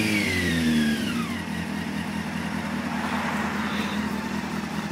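Honda CBR 600 motorcycle engine revving close by, one rising then falling rev followed by a loud, steady throaty drone, with no talking.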